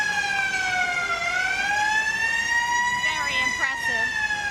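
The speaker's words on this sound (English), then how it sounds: "this is an Aaron's Fox 1927 pumper" A restored 1927 Ahrens-Fox fire pumper in a Memorial Day parade sounds a loud mechanical siren that wails steadily with a slowly dipping and rising pitch, with faint crowd voices beneath.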